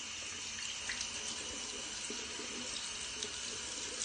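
Hot tap water runs steadily from a faucet into a bathroom sink, a continuous close splashing hiss with no break and no voices.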